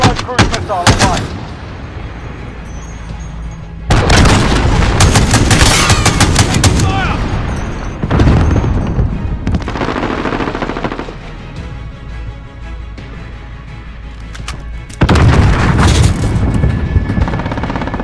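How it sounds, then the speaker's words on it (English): Cruise missile strikes in the Call of Duty Modern Warfare video game, played in team deathmatch, bring loud, heavy explosions and rumbling blasts in several bursts, mixed with rapid gunfire and long roaring tails between impacts. "Hello, cruise missile online."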